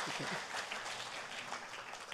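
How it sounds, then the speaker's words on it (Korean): Brief burst of crowd applause at a cryptocurrency event in Korea, a couple of seconds of fairly quiet, dense clapping with no talking. "박수 주세요."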